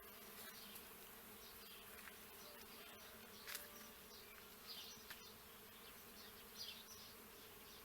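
Bees buzz steadily around a rural house surrounded by grapevines, a dense, continuous hum of many insects, faint overall with a few closer passes rising briefly above the swarm.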